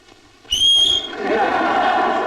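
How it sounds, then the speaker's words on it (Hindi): A person whistling: a short, high, clear tone with a quick upward slide, then fading into a noisy room hum. "शायद मैं तुमसे बेहतर सीटी बजा सकता हूं"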